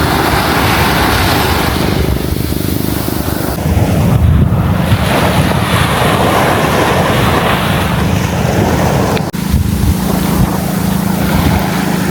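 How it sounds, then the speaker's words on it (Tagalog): Ocean surf breaks and washes steadily onto a beach in Zambales, a loud, continuous roar of waves mixed with heavy wind buffeting the microphone, with no voices. "Very calming talaga ang sound ng waves."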